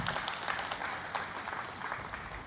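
A crowd applauds steadily at a 2001-batch school reunion at LHS Peddapuram. The dense, continuous clapping is fairly distant and moderate in volume, with no break.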